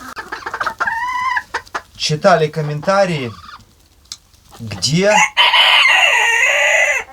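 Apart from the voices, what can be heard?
chickens clucking and rooster crowing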